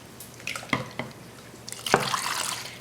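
Water being added to a cassava banku mixture in a pot, a few close, sharp splashes and drips, then a brief steady pour.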